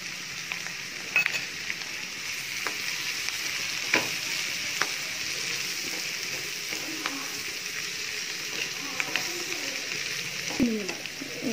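Broad beans frying with turmeric and chili powder in a pan, a steady soft sizzle with occasional stirring clicks and scrapes, fairly quiet and close.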